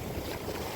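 Strong, icy wind on the Black Sea coast roars into the microphone as dense, steady buffeting rumble and broadband noise, loud and continuous with no pauses.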